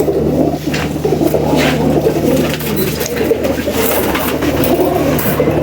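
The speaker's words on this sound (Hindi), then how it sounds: "नीली आंखों का कबूतर, और कितना प्यारा कबूतर है ये" Blue-eyed pigeons coo steadily and close by in a loft, their soft throaty calls overlapping in a continuous low murmur with faint rustling and wing movement behind.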